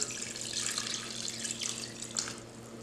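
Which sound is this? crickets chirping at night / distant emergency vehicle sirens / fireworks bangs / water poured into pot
water poured into pot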